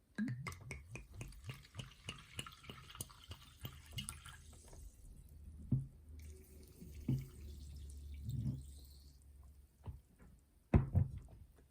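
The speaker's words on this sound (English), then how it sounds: "Let's pour some water in." Hildon mineral water trickles and splashes into a container, starting with quick drips and settling into a quiet pour, with a few soft knocks near the end.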